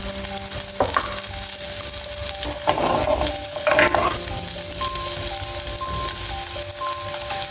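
Durian seeds fry in hot oil with garlic, a continuous loud sizzle with a few sharper crackles and stirring clatters mixed in.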